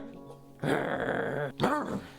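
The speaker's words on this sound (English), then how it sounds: "And in the distance, there was the sound of dogs barking." Dog barks and growly yelps in two short bursts, a mid-distance animal voice against a quiet background.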